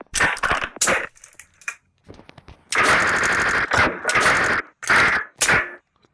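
World War 2 video game gunfire rattles out in loud, rapid automatic bursts, several short volleys separated by brief pauses, close and harsh.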